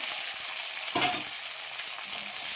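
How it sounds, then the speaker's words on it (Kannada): Boiled potato cubes fry in hot oil in a pan, a steady close sizzle with a brief louder burst of crackling as the pieces go in or get stirred; no one speaks. "ಇದನ್ನು ಚೆನ್ನಾಗಿ ಎಣ್ಣೆಲೆ ಹುರಿಯೋಣ."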